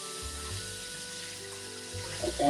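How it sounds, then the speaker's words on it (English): Tap water runs steadily into a sink while a turkey is rinsed and cleaned in a kitchen, a continuous close wash that swells slightly louder near the end. "keep running the water"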